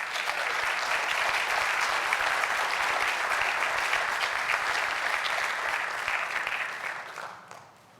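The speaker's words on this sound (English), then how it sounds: "Please join me in giving a warm round of applause to Mr. Dave Wrigley." Warm, full audience applause at an athletic hall of fame induction, dense steady clapping from a large crowd that holds for several seconds and then fades away.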